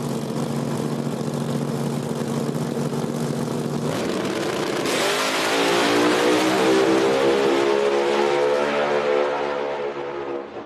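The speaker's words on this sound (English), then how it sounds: "Joe Woods makes a full pass but leaves about 5 seconds too late" A small-tire drag race car making a full pass at a Speed Promotions small-tire event, a loud continuous engine roar that rises in pitch as it accelerates down the track, staying close and dominant throughout.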